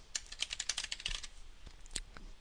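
Quick run of close keyboard clicks as a short note is typed into a notes box in training software, a burst of keystrokes followed by a few scattered taps.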